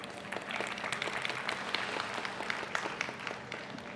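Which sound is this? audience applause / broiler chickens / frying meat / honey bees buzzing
audience applause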